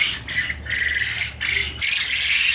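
Japanese quail squawk loudly and close by in a sustained, raspy chorus broken by a few short pauses.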